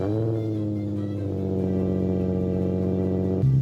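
A Nissan 350Z idles and starts in the Roblox-style driving game Driving Empire, a steady mid-pitched synthetic engine drone that shifts slightly in pitch partway through, then changes tone sharply near the end, heard alone without speech.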